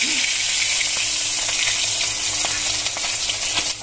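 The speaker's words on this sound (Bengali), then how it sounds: "এখন তেলটা গরম হয়ে গেছে এখন মাছটা দেবো" Small boal fish frying in hot oil, a loud, steady sizzle throughout with faint crackles and pops, no talking.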